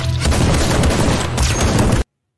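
A loud, rapid barrage of gunshots in a shootout scene from a Korean action film about a hitman, dense continuous fire for about two seconds before cutting off abruptly to silence.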